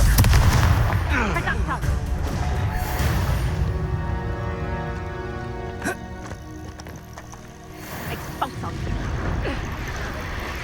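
A Confringo spell blast in Hogwarts Legacy, booming explosive bursts and rumbling impacts among dense game effects and music, with a voice speaking over the action.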